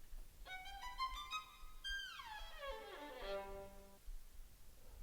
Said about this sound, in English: like a glissando, where you slide your finger on one string from one pitch to the other